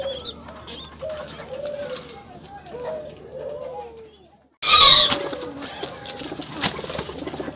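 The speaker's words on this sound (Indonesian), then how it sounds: "burung yang tadi saya obatin ini ya, sudah mulai bekur-bekur" A recovering domestic pigeon, previously sick, gives a series of soft, low coos close by, followed by a sudden burst of louder rustling and flapping noise.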